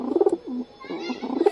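A pair of pigeons cooing back and forth at night, soft throaty rolling coos in short bursts with a brief pause between, close and clear with no one talking.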